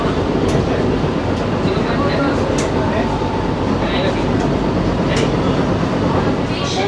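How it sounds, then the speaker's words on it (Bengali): Sealdah–Ranaghat AC local train on an inaugural run, heard from on board: a loud continuous rumble and roar of the moving electric train with faint rail clicks throughout. "আর এরপরে কিন্তু ডাইরেক্ট আমাদের ট্রেন দাঁড়াবে নৈহাটি।"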